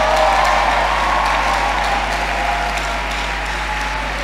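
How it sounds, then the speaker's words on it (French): Church congregation applauding and cheering in praise during a prayer service, a loud sustained wash of clapping with scattered whoops, with a steady low hum underneath. "Acclamez le Seigneur notre Dieu."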